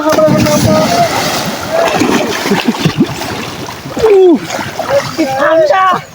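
People wading into a fish pond send up loud, repeated water splashes, mixed with lively shouting and chatter from several voices.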